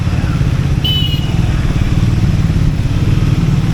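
Steady, loud motorcycle engine drone while riding on a long ride from Hyderabad to Yadagirigutta, close up, with a brief high whistle-like tone early on.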